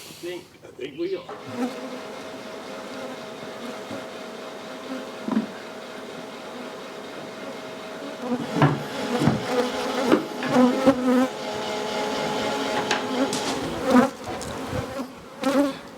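Honey bees buzz around beehives in a continuous, close drone, joined later by clatters and knocks from hive handling.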